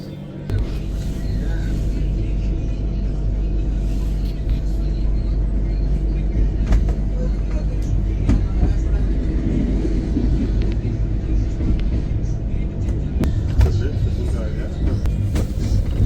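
Heard from on board, the Rishikesh Intercity Express from Ganganagar runs near Ambala with a loud, steady, deep rumble and scattered clicks and rattles, while people talk nearby.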